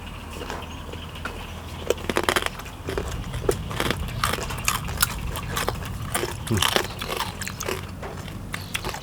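Crunchy chicken feet salad dressed in spicy fermented fish sauce being eaten up close: loud, irregular bites and crackly chewing crunches follow one another over several seconds, with no speech.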